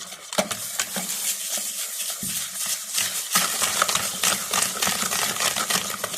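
An electric beater whisks eggs into sifted flour in a bowl for a bakery-style vanilla sponge cake, making a continuous close rattling and scraping clatter with no voices.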